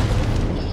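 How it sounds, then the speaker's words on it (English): A dense, loud explosion rumbles through the action game Tomb Raider, a sustained low booming roar filling the whole moment with no talk over it. "oh, an explosion. It's just stuff exploding"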